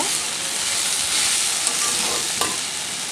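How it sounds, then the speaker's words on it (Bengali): Green vegetables seasoned with turmeric sizzle in hot oil in a pan while being stirred, a steady bright hiss with a couple of brief scraping clicks. "দিয়ে এটাকে আবার একটু নাড়াচাড়া করব"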